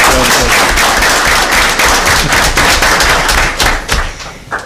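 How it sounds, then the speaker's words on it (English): An audience at a county board of education meeting gives a loud, dense round of applause with sharp, close claps, continuous for several seconds before thinning at the end. "So let's give both of them a round of applause"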